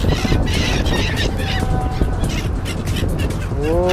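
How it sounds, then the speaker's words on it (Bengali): Many birds caw and call at once, a dense, noisy chorus close by that fills the whole stretch, with a few clearer rising calls near the end. "বহুত বহুত পাখি আসছে।"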